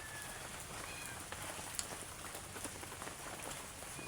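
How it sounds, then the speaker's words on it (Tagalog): Rain falls steadily during a wet morning outdoors, an even hiss of drops with a few sharper close splashes, no voices. "Umuulan pa rin."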